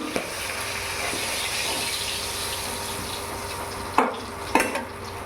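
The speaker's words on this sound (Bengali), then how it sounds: "এক এক করে এরকমভাবে আর মাছের মাথাগুলো ভেজে নেব" Katla fish heads fry in oil with a steady, close, continuous sizzle. Two sharp clatters from turning or handling the pieces come near the end, and no one speaks.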